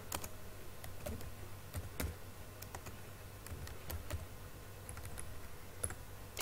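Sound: typing on a computer keyboard

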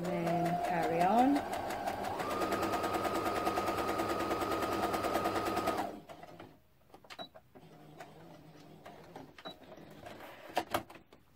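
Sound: sewing machine stitching a quilt seam

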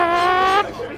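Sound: person imitating a motorcycle

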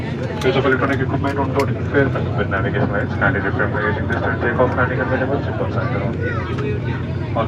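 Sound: airplane on the runway

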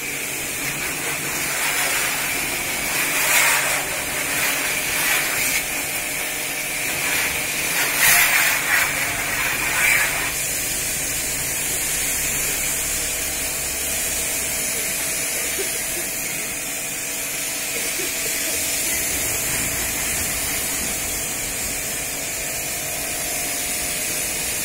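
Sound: high pressure car washer spraying a Swift car

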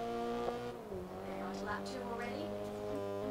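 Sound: Honda race car engine and tire squeal in video game Grid 2019

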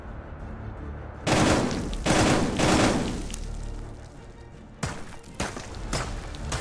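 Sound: gunfire in a video game

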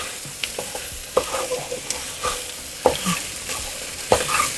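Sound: sautéing masale bhat ingredients in a pan

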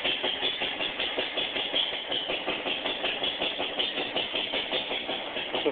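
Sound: Witte 15 horsepower hit-and-miss engine running on hydrogen

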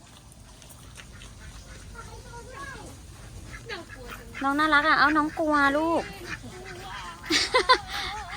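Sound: geese honking at a cafe

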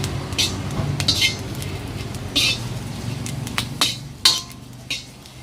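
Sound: dry-roasting ingredients by stirring in a pan

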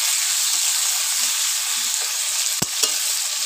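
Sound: potatoes and onions frying in a wok

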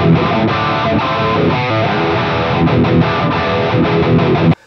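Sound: distorted electric guitar through DV Mark Marigold amp model in Overloud TH-U

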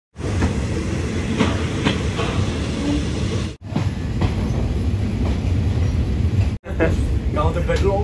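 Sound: long train passing

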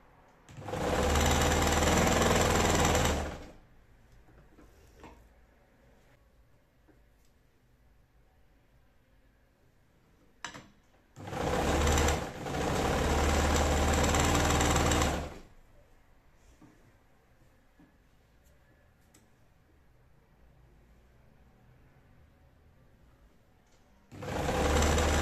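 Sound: sewing machine stitching a bed cover

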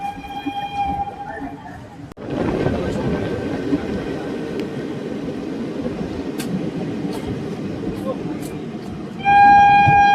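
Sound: moving train

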